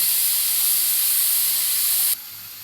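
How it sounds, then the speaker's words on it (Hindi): Steam from a pressure cooker of beef biryani bursts out as a loud, steady hiss once the whistle is lifted, holding strong before cutting off abruptly near the end and leaving a softer residual hiss. "अब हम इसकी विसल उतार देते हैं और चेक कर लेते हैं बीफ को"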